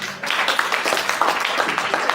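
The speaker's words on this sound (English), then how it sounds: "Please, a round of applause for her." An audience at a school inter-house quiz and debate event claps steadily for a speaker being called up, a dense continuous patter of hands with no talking over it.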